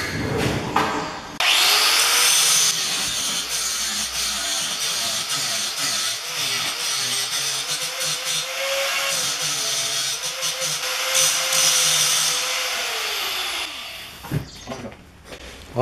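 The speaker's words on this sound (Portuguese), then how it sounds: "Agora eu só dou um acabamento aqui em cima para a lixadeira para poder soldar ela." A power sander finishes metal on a lathe tool before welding, grinding steadily for about twelve seconds, a loud continuous whir with a faint rising hum, starting and stopping abruptly.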